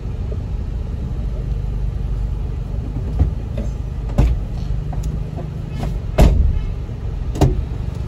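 A car being driven out of a parking spot in a busy street, with a steady low engine rumble and a few sharp knocks and thumps, including a louder clunk near the middle, and no talk.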